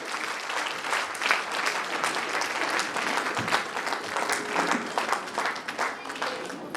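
A crowd at a celebration event in Mughalsarai claps in loud, sustained applause, with a busy hall murmur underneath and no clear break in the clapping.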